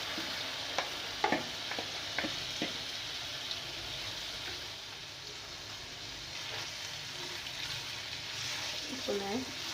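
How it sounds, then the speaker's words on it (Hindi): Chicken liver (kaleji) frying in hot cooking oil, a steady broad sizzle with occasional light clicks and scrapes of stirring throughout. "ऑयल हीट अप हो गया, और अब हम इसमें ये कलेजी डाल रहे हैं।"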